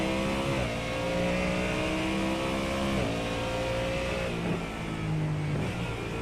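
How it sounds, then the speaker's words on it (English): Ford Mustang GT3 race car in a racing game, engine droning loud and steady at high revs, pitch climbing and dropping sharply with several gear changes. "I think that Mustang sounds beautiful."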